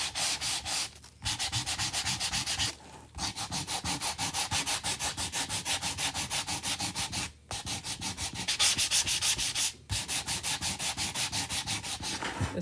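Repeated rhythmic rubbing strokes of sandpaper along the edges of a paper craft piece, close and steady across the clip with a few short pauses between passes, no voices.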